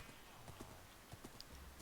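Horse hooves clip-clopping in Minecraft, a steady run of light, regular hoofbeats close by with a faint whinny-like tone and low game ambience underneath.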